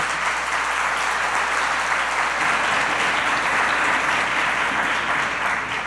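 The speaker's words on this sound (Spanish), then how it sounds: "Recibámoslos con un muy, pero muy fuerte aplauso." An audience at an education panel applauds, a dense, steady burst of clapping that fills the room at full strength for several seconds without any speech.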